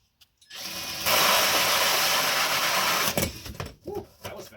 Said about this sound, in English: Going to go ahead and drill through here.